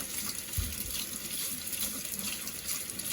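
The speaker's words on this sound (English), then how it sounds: "you're just going to run it under water. Here I have it in the sink. I'm just using warm water." Warm tap water runs steadily into a sink over an ink-stained stamp scrubber, a continuous close splashing hiss with a brief thump as a hand works the scrubber under the stream.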